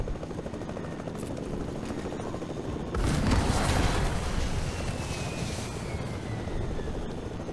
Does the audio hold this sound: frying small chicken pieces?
no